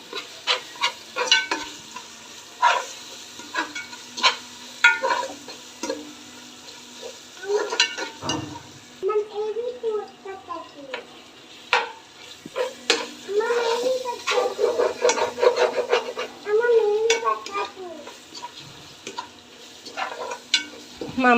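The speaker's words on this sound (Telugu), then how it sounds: "అల్లం వెల్లుల్లి పచ్చివాసన పోయేంత వరకు వేపుకోవాలి" Ginger garlic paste being stirred and fried in a pan for a spicy mutton soup: a steady sizzle with repeated scraping strokes of a spoon, close and fairly loud, with brief voices now and then.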